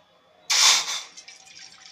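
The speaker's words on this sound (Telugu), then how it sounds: "మనకి కావాల్సిన నీళ్ళు పోసుకోవాలి." Water poured into a saucepan on a stove for rose tea: a sudden loud splashing gush starting after a quiet moment, then easing into a softer trickle.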